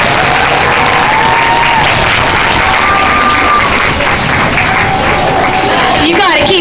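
A school assembly audience at a Locks of Love hair-donation event applauds steadily and loudly throughout, dense clapping mixed with crowd noise and a few raised voices.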